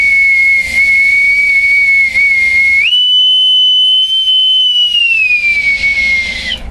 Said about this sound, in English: with my authentic bosun's whistle that I got in Newport